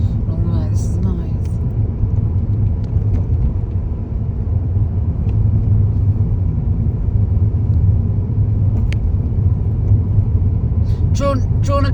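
A car cruising along a country road, giving a steady, close low engine and road rumble that holds constant throughout, with people chatting inside the cabin now and then.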